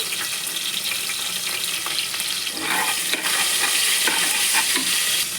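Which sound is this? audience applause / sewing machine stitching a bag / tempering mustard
tempering mustard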